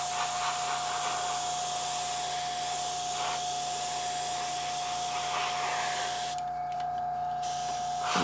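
An airbrush sprays paint onto a Tamiya 1/48 F-14A model, producing a steady, close hiss over a constant compressor-like hum, with a short drop in the spray near the end.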